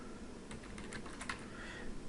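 A computer keyboard being typed on while entering a formula in Excel, a short burst of quiet key clicks clustered in the middle, close and faint over steady room noise.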